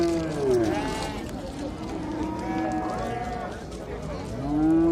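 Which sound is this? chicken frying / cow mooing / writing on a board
cow mooing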